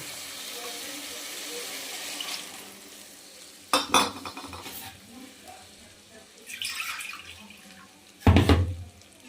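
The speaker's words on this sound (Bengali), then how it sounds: "এবার জল দিয়ে দেবো" Water is poured into a cauliflower and banana flower curry in a pan, giving a gentle simmering hiss with several loud splashing gushes, one near the middle and a stronger one at the end.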